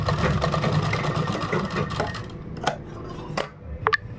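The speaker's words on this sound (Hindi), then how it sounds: "इस पर हमें कच्ची सिलाई लगा लेंगे पूरे पे" Sewing machine running a stitch along a kurta, a steady close mechanical whirring drone that slows and stops, followed by a few sharp clicks and knocks.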